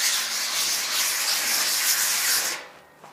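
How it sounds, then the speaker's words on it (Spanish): Continuous rough rubbing of wet sandpaper with steady back-and-forth strokes on primed metal, close and fairly loud, stopping near the end. "Ahora vamos a empezar a lijar con lija de agua."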